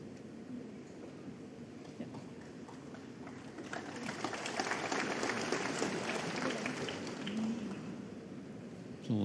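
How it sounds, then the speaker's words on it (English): Snooker crowd at the Shanghai Masters final applauding, a low, soft ripple of clapping that swells in the middle and lingers beneath a quiet arena murmur. "Applause from the crowd"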